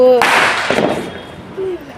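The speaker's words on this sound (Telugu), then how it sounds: "వీళ్ళు మళ్ళీ పెడుతున్నారా బాంబు" A Diwali firecracker bomb bursts with one sharp loud bang close by, its crackle fading over about a second, with a voice speaking just before and briefly after.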